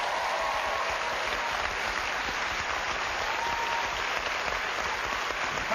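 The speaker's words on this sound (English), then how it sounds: "Give him a round of applause." Sustained, dense applause from a live studio audience at a Derby Day show, loud and steady throughout with no gaps and no talking.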